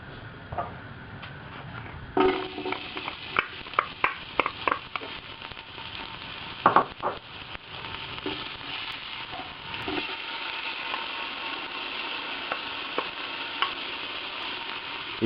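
Garlic and onions sauté in hot oil in a casserole pot, giving a steady close sizzle with clinks and scrapes of stirring. The frying is busiest early on and settles into an even hiss near the end.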